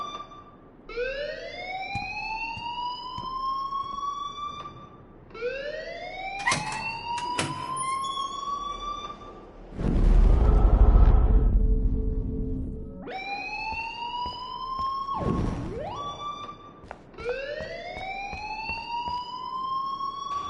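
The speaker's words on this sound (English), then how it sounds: "please turn off that alarm since that's your job" A school alarm in Life Is Strange wails in rising, siren-like sweeps that repeat and then break into a harsh buzzing burst before resuming, loud and close with no speech.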